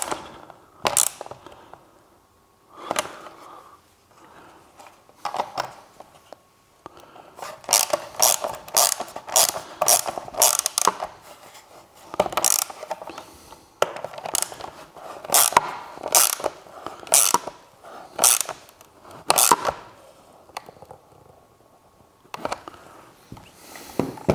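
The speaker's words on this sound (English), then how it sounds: "So with our 10mm socket, tighten it up." A ratchet wrench with a 10mm socket tightens a bolt on a Honda Goldwing GL1800 front fender extension, giving bursts of rapid close clicking separated by short pauses, with no talking.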